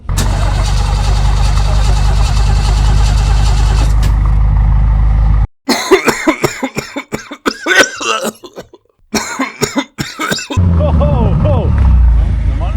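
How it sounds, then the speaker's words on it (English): A BMW car engine cold-starts with a loud roar and settles, then sharp revs and throttle blips burst out with brief gaps between them, close and loud. "he's about to give us a little bit of a cold start and a few revs"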